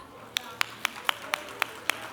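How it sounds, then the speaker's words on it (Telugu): Children at a church vacation Bible school clap in a slow, steady rhythm, seven or eight sharp, evenly spaced claps at moderate distance in a room with faint background murmur. "Okay, clap."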